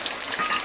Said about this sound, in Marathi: तर आता टाकतोय लसूण फोडणीसाठी.